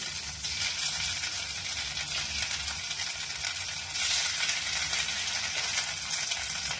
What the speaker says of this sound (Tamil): நல்லா மெல்ட் ஆனதுக்கப்புறம் இதை வந்து நான் ஷாலோ ஃப்ரை பண்ண போகிறேன்.